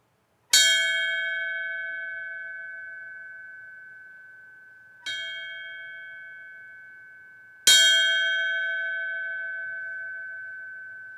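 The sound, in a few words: memorial bell rung three times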